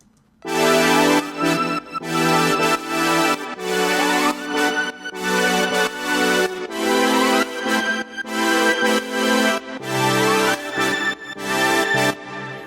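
Sustained synth pads forming the background layer of a song, playing loud and alone with no voices, swelling in repeated phrases and briefly dropping out between them.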